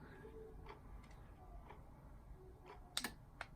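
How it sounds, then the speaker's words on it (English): A Century wireless remote control socket switch gives faint, sharp clicks, a couple of quick ticks near the end of an otherwise quiet room. "you will hear this clicking sound whenever you push"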